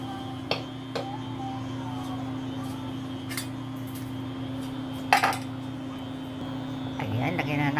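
A casserole pot is handled on a home stove while cooking chicken tinola, giving several sharp metallic clinks and clatters, one louder knock near the middle, over a steady low background hum.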